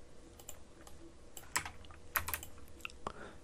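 A few sparse, quiet keyboard key presses on a computer, the clicks of saving a file with Ctrl+S, each tap short and close with pauses between them and no voices.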